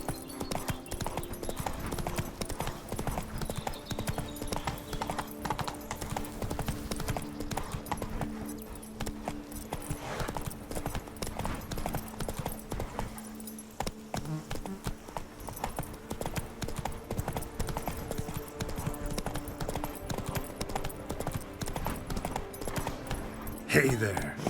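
Roach the horse's hooves in The Witcher 3: continuous rhythmic clip-clop of hooves over a steady layer of game ambience and faint music, moderately close throughout.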